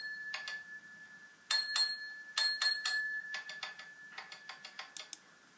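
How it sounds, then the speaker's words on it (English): Railway signal box bells from a Class 68 model locomotive's sound system ring in short clustered beats, sharp metallic dings in groups, then a quicker run of lighter strikes, with no talking. "Signal box bells."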